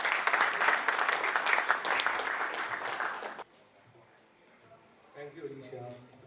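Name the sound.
audience applause for opening speaker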